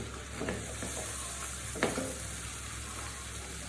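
Carrots and cauliflower go into a frying pan of oil for a vegetable dish, under a steady moderate sizzle with a brief rustling clatter as pieces drop in, and no voices.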